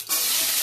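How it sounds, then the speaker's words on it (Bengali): Bitter gourd and pumpkin fry in a pan, a sudden loud burst of bright sizzling hiss that holds steady for a moment. "তো এটা আমি এখন ভাজি উচ্ছে কুমড়ো এখন তুলে দেবো।"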